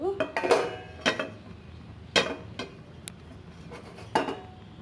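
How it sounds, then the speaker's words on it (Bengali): A frying pan with white cooking oil is swirled and handled on a stove before frying eggs, giving a string of sharp metallic clanks and scrapes at irregular intervals, close and fairly faint. "তেলটাকে আমি চারিদিকে এইভাবে ফ্রাই প্যানটা ঘুরিয়ে তেলটাকে চারিদিকে ছড়িয়ে দেবো।"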